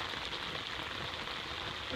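Steady downpour pattering hard on an umbrella nearby, a constant rushing hiss that never lets up.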